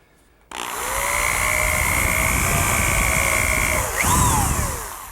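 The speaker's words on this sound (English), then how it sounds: "just drill a hole down into the side frame" A power drill whines into the wooden side frame of a settle at close range, steady high-pitched motor tone for several seconds, then briefly revs up as it finishes.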